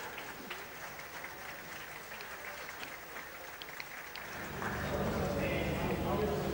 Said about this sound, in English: Okay, you heard the applause.